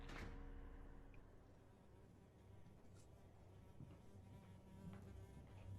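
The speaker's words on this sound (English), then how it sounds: "There's the sound of a buzzing fly throughout all this." A fly buzzes steadily and faintly the whole time, a thin continuous drone in a quiet indoor space with no talking.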